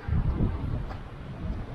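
Wind blowing outdoors on a cold day with light snow falling, a steady low rumbling gust noise buffeting the microphone throughout, with no other clear sounds.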